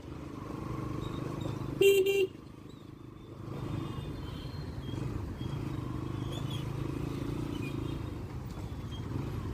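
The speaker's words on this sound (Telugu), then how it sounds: "Full on traffic Kukatpally roads." Heavy road traffic on Kukatpally roads: a steady rumble of cars and motorcycles with engines droning close by. A short, loud car horn blast cuts through about two seconds in, then the dense traffic noise carries on.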